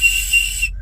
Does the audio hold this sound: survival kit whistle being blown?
yes